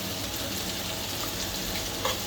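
Garlic sizzles in a pan of roux made with flour and beer, a soft, even frying hiss held steady and close with no talk over it.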